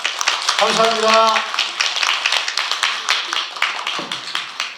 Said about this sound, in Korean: 여러분 이 책이 나오기까지의 고통을 우리가 박수로 한번 환영을 해 줍시다.